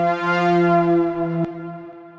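A sustained synth tone with its LFO stutter effect bypassed, in the style of 2025 electronic music, rings as a steady harmonic drone with a single sharp click near the end, then continues more quietly.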